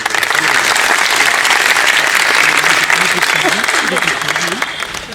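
Audience at a literary society's foundation day event claps in sustained applause for a poet reciting, steady and loud throughout, with a voice speaking faintly over it.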